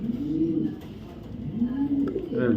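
Racing pigeon of an NL-brand bloodline imported from the Netherlands coos close by, giving soft repeated throaty rolling calls with short gaps, no voices.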